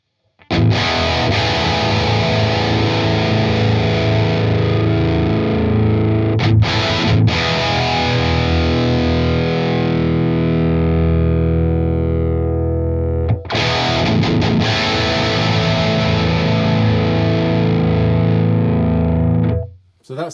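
Heavily distorted electric guitar run through the Fortin Nameless amp plugin, captured on the second cabinet microphone: loud sustained chords ringing out alone, with a short break midway and an abrupt stop at the end.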